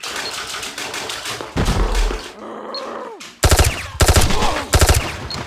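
An MP5 set to burst fire shoots in a video game on a swamp map. Quieter rustling and movement give way to three loud, rapid bursts in quick succession.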